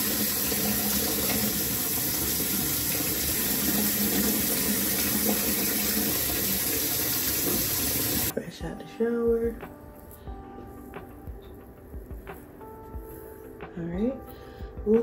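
Water runs steadily from a tap during a hair wash for an itchy scalp, a dense continuous hiss for the first half before cutting off, leaving quieter handling sounds and faint voice.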